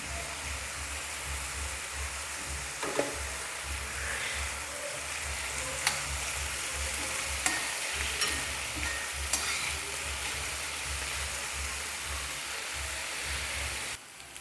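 Sliced onions fry with a pinch of salt in a pan for egg curry, a steady quiet sizzle with a few sharp stirring clinks and scrapes, ending abruptly, no speech.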